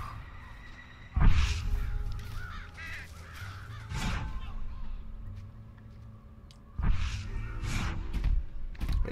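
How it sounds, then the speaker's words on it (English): Crows in Red Dead Redemption on a farm caw in loud, harsh bursts, a flock calling repeatedly in a few clustered volleys over quiet ambient background. "That's a lot of crows, man."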